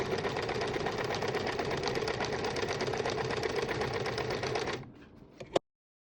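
A Simplicity 8220 sewing machine runs a continuous stitch at a long stitch length. Its needle chatter is loud and steady for about five seconds, then stops, followed by a faint mechanical rattle and a sharp click.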